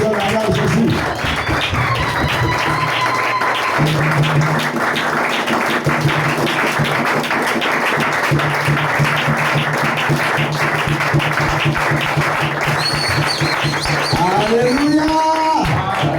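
A Sunday church congregation acclaiming with loud, sustained voices and clapping, a dense crowd roar with tonal calls running throughout at close range.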